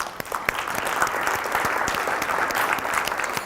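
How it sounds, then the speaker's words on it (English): Warm round of applause from an audience at a community gathering in Fairbanks, steady, full clapping with sharp individual claps standing out, sustained for the whole stretch. "Let's give them a warm round of applause."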